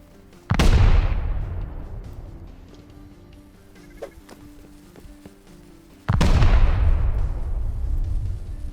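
Two loud, booming explosions in the video game Rust, several seconds apart, each a sharp blast followed by a long rumbling decay, with faint clicks and noises in between.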